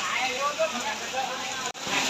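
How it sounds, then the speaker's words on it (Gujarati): Rain falls steadily over Hadaud village, a dense, even hiss with a soft pattering texture that runs unbroken except for a very short dropout near the end. "हमारे हड़ौद में बारिश हो रही है"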